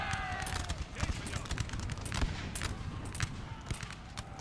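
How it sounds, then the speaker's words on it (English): An artillery strike lands in Napoleonic Total War 3 as a rapid, irregular volley of cracking shots and thuds, moderately loud, heard under a man's speech. "Oh, the artillery strike."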